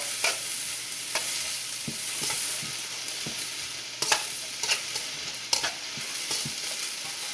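Onions and carrots sizzle steadily in a pan during a chicken stir-fry, with a soft continuous crackle broken by sharp scraping taps of a utensil stirring every half second or so.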